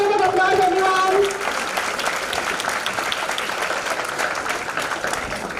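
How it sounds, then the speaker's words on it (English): An audience at an international management conference applauds its awardees, a dense roll of clapping that follows a short spoken line and then holds steady and fairly loud to the end. "Let's give them a big round of applause, everyone."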